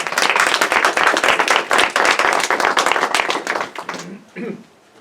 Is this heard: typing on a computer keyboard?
no